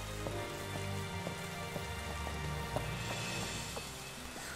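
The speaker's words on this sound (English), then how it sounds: "It's raining." Steady in-game rain from Pokemon Sword and Shield (Isle of Armor) patters continuously over a looping game music track, a dense even hiss with no talking.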